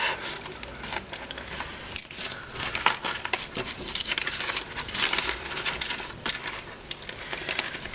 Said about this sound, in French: je vais prendre un billet de 50 et un billet de 20